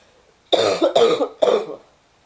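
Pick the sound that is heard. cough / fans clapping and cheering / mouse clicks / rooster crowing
cough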